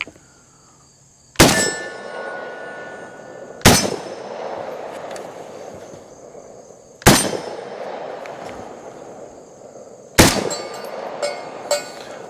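AK-47 rifle fire at steel targets outdoors, four loud single shots spaced a few seconds apart, each a sharp crack followed by a ringing metallic clang and a decaying echo.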